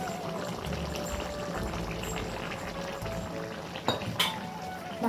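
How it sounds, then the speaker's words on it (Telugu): Hot water is poured into a pot of simmering Telangana chicken curry, a soft continuous pouring wash with a couple of sharp metallic clinks near the end. "ఇలా ఉడికిన తర్వాత మగ్గిన తర్వాత నేను ఎసరు పోస్తాను ఇందులో"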